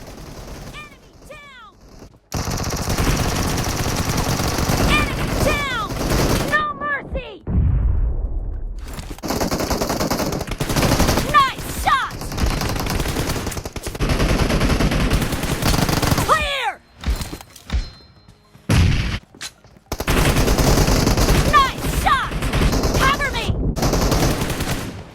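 Rapid automatic gunfire from a character on the move in PUBG Mobile, repeated loud bursts broken by brief pauses, with footsteps and game effects in between and a voice talking over it.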